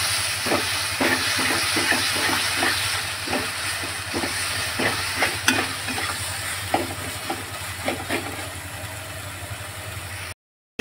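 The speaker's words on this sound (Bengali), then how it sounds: "পেস্ট করা মশলা দিয়ে ভালো করে আমি কষে নেব" Ground spice paste for Bengali chicken kosha frying in a pan and stirred repeatedly, giving scraping strokes over a steady sizzle and a low constant hum, then a sudden cut near the end.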